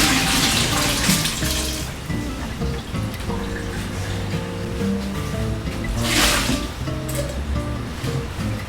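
Water from cooked pasta for a pasta primavera pours off as it drains in a kitchen, a steady rushing splash with brief louder gushes.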